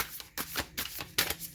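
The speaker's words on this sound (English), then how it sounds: "I want to get a good shuffle." A deck of tarot cards being shuffled in several quick, soft riffling bursts in an uneven rhythm, close up and fairly quiet, alone without talk.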